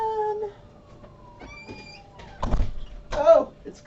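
A door opening to let a cat named Tootsie in from the cold, with a short meow near the start, then a clatter and thump of the door as it swings, under a quiet voice.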